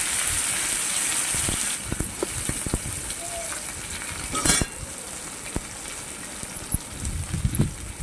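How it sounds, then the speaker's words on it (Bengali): Loud, crackling sizzle of onions and chillies hitting hot oil, with a burst at the start and occasional scraping stirs afterward. "দিয়ে ওগুলোকে আমি লাল লাল করে ভেজে নেব, ভালো করে আর কি কষিয়ে নেব।"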